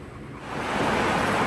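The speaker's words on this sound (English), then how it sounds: "It's pouring outside, so we're eating in my dad's canopy." Heavy rain pours down outside a canopy at a campsite, a broad steady rush that builds over the first half second and then holds loud and even, with no voices.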